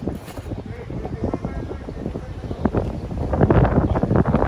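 Gusty wind buffets the microphone outdoors in East River Park, New York City, in low rumbling bursts, growing stronger toward the end, with a voice faintly present underneath.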